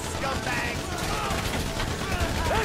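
Dense, continuous gunfire in a sustained barrage during a GTA 5 bank heist, loud and unbroken, with a voice talking over it.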